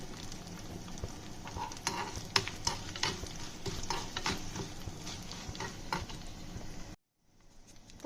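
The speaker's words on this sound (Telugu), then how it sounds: "తాలింపు వేగిందండి" Garlic and four dried red chilies sizzle steadily in hot oil as a tempering for coconut dal, with stirring clatters over a dense frying hiss that stops abruptly near the end.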